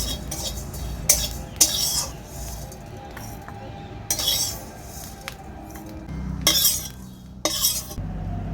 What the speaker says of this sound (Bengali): হালকা নেড়ে চেড়ে আমি এটা নামিয়ে নেব